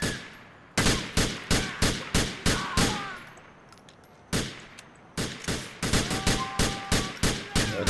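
Gunfire from a weapon in Grand Theft Auto IV, sounding as loud, sharp shots in quick irregular bursts, a first volley, a brief pause, then a denser run of rapid shots with ringing tails.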